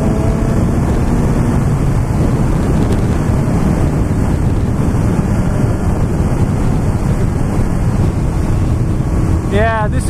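Heavy, steady wind roar buffets the microphone while riding a BMW S1000R motorcycle at speed, a dense continuous rush with no letup throughout.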